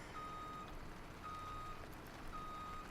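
Repeated electronic reversing beeps from a farm vehicle backing up with a trailer in Farming Simulator 17, sounding as evenly spaced, steady tones over a constant engine hum. No one speaks.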